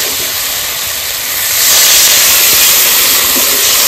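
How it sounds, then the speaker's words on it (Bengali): Water poured into a pan of hot fried mustard masala with salt and a little sugar, sizzling loudly. The sizzle starts moderate and swells into a strong, steady hiss after about a second and a half, with no talk. "মশলাটা কষানো হয়ে গেছে, এবার জল দিয়ে দেবো"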